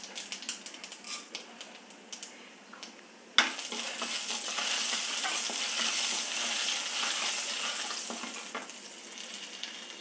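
Mustard seeds and urad dal sizzle and crackle in hot oil, tempering for a cabbage curry; the frying starts abruptly and continues loud and steady with dense popping.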